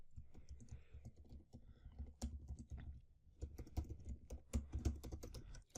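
PHP code is typed on a computer keyboard in quick, uneven bursts of soft key clicks with brief pauses between runs, heard close up and quietly, with no talking.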